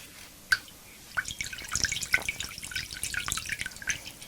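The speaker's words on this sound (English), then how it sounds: "Just going to pour some of the juice in there." Homemade juice for a brew poured into a sanitized container, a close, wet trickling and splashing that starts with a few drips and builds into a continuous uneven pour, with no speech.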